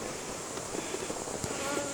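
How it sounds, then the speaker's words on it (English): Many honeybees buzz around a hive after harvest, producing a dense, continuous droning hum close by, with occasional individual bees louder as they pass. "It's a lot of bees"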